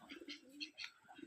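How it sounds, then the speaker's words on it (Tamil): Soft, distant cooing of domestic pigeons kept at a home loft, a few low murmuring calls faint in the background. "இதுலேயும் புறா இருக்கு நண்பர்களே"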